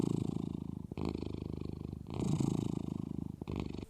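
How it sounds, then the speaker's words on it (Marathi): A cat purrs close up in a steady rhythmic rumble, with each breath cycle audible and brief pauses between the long purring phases. "पर म्हणजे मांजराचे गुरगुरणे."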